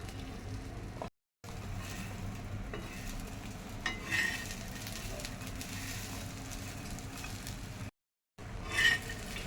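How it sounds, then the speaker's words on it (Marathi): Mixed sprout usal roasting on a hot tawa over a high flame, giving a steady sizzle with stirring scrapes and light clinks of a utensil, broken by two brief silent gaps. "थोडं तवा गरम झालेला आहे, त्या तव्यावर आपण हे भाजून घेऊया"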